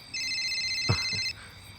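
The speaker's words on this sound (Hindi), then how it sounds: "अरे भैया का फोन आ रहा है।" A phone rings with a steady electronic tone lasting just over a second, accompanied by a brief soft thump midway, in a quiet indoor scene of a Hindi-dubbed horror thriller.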